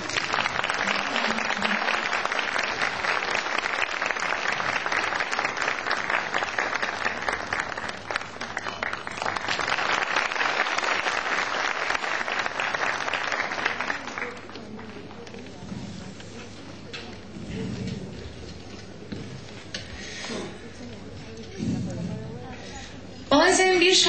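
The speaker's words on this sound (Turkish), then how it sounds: "Şefimiz Sayın Niyazi Sevinç için de ayrıca bir alkış lütfen." A concert hall audience applauds loudly for a choir conductor, a thick roar of clapping that fills the first fourteen seconds, then gives way to quieter murmuring and a spoken voice.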